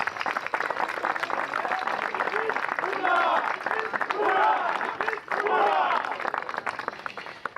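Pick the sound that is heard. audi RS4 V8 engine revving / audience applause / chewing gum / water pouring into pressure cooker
audience applause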